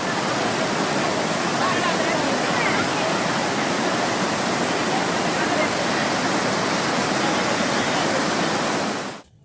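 Monsoon water gushing down the Courtallam waterfalls, a loud, dense, continuous roar heard alone that cuts off abruptly at the end.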